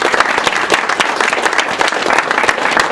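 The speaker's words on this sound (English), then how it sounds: "First, we're going to give him a round of applause." Students in a school setting give a loud, sustained round of applause, dense clapping that fills the whole stretch close up, with no talking heard over it.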